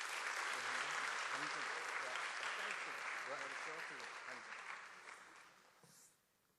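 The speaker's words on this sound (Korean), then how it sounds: "큰 박수로 모시겠습니다." Applause fills a school chapel service at a global academy campus as a student speaker is welcomed. The clapping is dense and sustained, with voices audible underneath, then fades out toward the end.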